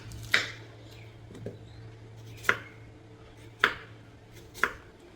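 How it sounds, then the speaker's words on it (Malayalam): A knife chops onions for a cooker biryani, giving about five crisp, separate strikes on a board roughly a second apart, close and alone over a low steady hum. "നമുക്കപ്പോൾ സവാള കട്ട് ചെയ്യാം."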